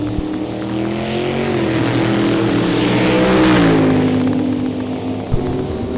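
A drag race between a big-block Mopar-powered 1967 Plymouth Barracuda and a 1957 Ford Fairlane at a dragway: loud, sustained engine roar that swells and then tapers off, with no talk.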